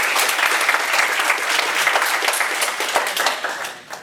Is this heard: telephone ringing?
no